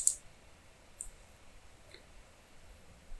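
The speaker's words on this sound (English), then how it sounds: "Now click on Portrait in the Orientation section and click on OK." Mouse clicks in the MS Word 2013 Page Setup dialog on Windows 10: a few sharp, faint clicks spaced about a second apart over quiet background.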